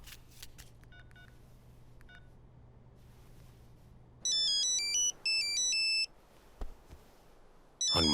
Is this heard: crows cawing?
no